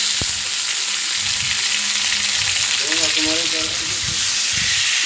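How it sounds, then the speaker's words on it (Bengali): Potato fries in a pan with ghee and a ground paste of ginger, onion, garlic and cumin, giving a loud, continuous hissing sizzle throughout, with occasional stirring and a brief voice-like sound. "আর মশলা দিয়ে কষাচ্ছি, একটু ভালো করে কষালে কাঁচা গন্ধটা থাকে না।"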